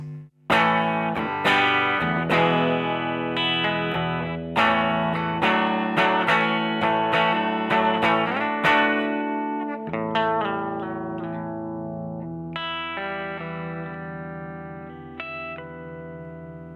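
Electric guitar through a Greer Lamplighter optical compressor pedal set to halfway compression plays a run of plucked notes and chords with a smooth, evenly compressed sustain, each note held level before fading, with slight reverb.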